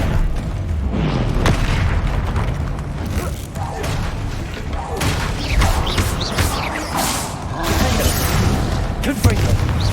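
Confringo fire spells in Hogwarts Legacy burst as repeated booming explosions with whooshes and crackling debris, set against busy game sounds and some speech.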